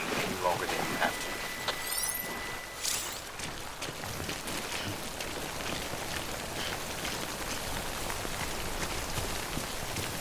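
Steady timefall rain falls across an open landscape in the video game Death Stranding, a dense continuous hiss of drops on surfaces, with some brief synthetic tones and swishes early on before the rain carries on alone.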